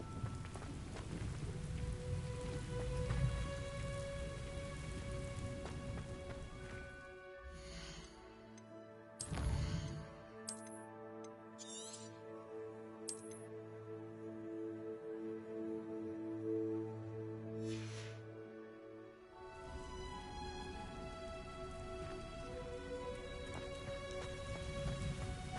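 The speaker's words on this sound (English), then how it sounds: "Will it ever stop raining?" Steady rain and distant thunder in Hogwarts Legacy, a continuous downpour with a rumbling thunder roll midway over a layer of game music.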